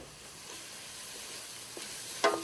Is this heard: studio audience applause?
no